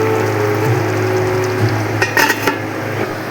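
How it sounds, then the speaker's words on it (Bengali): Fried pea-lentil badi sizzles and crackles in a wok of hot oil, a steady close frying hiss with a few louder stirring scrapes and clinks near the end. "ভেজে রাখা মটর ডালের বড়িটা এখন আমি কড়াইতে দিয়ে দেবো।"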